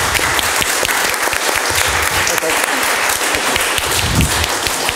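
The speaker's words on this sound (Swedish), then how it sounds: "En varm applåd." Warm applause from an audience thanking a discussion panel at a Swedish integration event, a dense, steady patter of many hands clapping throughout at close range, with some voices faintly mixed in.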